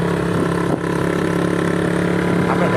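A motorcycle engine runs close by with a steady, loud droning hum and a brief dip partway through, as the bike carries riders down toward the sea.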